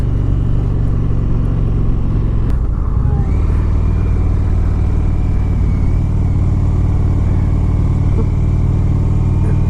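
A 2017 Indian Springfield bagger motorcycle rides through strong wind, its engine a steady deep rumble under constant loud wind roar, with a slight shift in engine pitch partway through.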